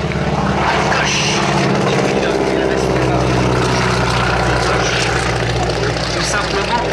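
A propeller biplane carrying a wingwalker performs at the 2022 Cambrai air show, its engine a loud, steady droning roar that holds throughout with little change. A voice talks faintly beneath it.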